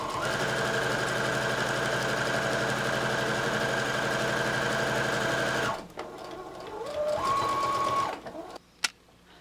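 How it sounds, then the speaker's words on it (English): A sewing machine stitches a straight seam down an armchair caddy, a fast steady mechanical whir for several seconds that stops abruptly, followed by a few short clicks and a brief second burst of running. "I'm just going to sew a straight stitch."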